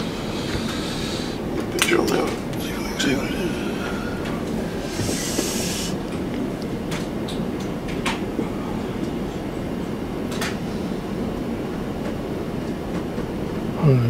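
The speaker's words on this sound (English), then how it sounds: "We've got that ScotRail train approaching" A ScotRail passenger train rumbles past Carlisle power signal box with a steady roar, hiss and rhythmic rail clatter, while someone speaks briefly over it.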